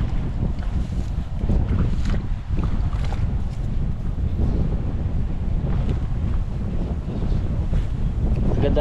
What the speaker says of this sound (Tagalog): Malakas po talaga yung hangin dito.